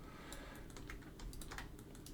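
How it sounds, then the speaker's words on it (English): A computer keyboard clicks quietly with a few light, scattered key taps close by, with no voices. "accidentally pressed X on the keyboard."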